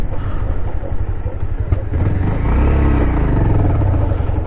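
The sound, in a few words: motorcycle engine while parking the bike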